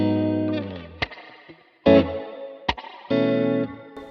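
Plucked guitar notes run through a Universal Audio Golden Reverberator spring reverb: short, poppy attacks ring out with a lingering reverb tail, several separate strums and plucks spaced over a few seconds, close and clear with no voices.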